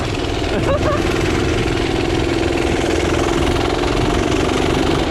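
A minibike engine idles steadily and loudly nearby, a continuous rumbling putter with no break.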